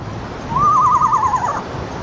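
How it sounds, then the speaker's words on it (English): An eastern screech owl gives a single descending, quavering whinny lasting about a second, with a rapid wavering tremolo like a horse's neigh, clear and fairly close over a faint background hiss. "the eastern screech owl whinnies like a horse"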